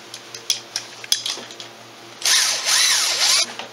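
Power tool spinning off 12mm bolts on a Polaris 500 engine, with short bursts of a whirring drill and a clatter of metal, then a longer louder run near the end, close and alone.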